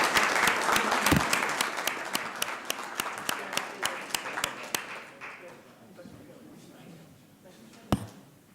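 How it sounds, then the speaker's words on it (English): A city council audience breaks into applause, dense clapping that thins out over several seconds, with a single sharp clap near the end. "Let's give them a round of applause, folks."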